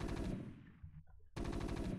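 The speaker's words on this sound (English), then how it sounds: "tOKi already has a Marine out and already finds Mong's choke and starts hammering away at those cannons with that single Marine." Rapid machine-gun bursts from a StarCraft Marine hammering at Protoss cannons, with a steady rattling fire that cuts out briefly and then resumes, heard fairly quietly.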